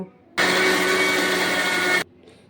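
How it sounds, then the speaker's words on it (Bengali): A blender blending homemade mayonnaise whirs loudly at a steady pitch for under two seconds, starting and stopping abruptly, close up. "এখন আমি একটা ব্লেন্ডারের সাহায্যে অল্প অল্প করে ব্লেন্ড করে নেব।"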